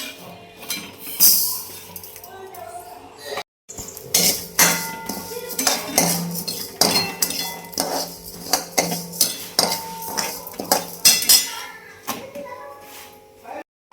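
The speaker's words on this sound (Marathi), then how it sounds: "आज मटकीच्या डाळीची भाजी करायची आपल्याला आमटी भाजून कुटून तर डाळ भाजून घ्यायला लागली" Moth bean lentils roasted in a pan over a kitchen stove: repeated metal clinks and scraping of a spoon against the pan in uneven bursts, with faint background voices.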